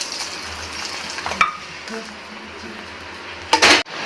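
Fried cashews and raisins are stirred into semiya sago payasam with a spoon, making soft wet scraping and a few sharp metallic clinks against the pot, close and fairly loud toward the end.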